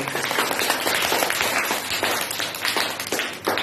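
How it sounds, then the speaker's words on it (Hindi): Sustained applause and clapping from an audience after a Sindhi speech by a young girl, dense and steady throughout at moderate level. "जरा जोरदार ताली हो जाए"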